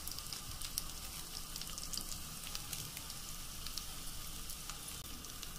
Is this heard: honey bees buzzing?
no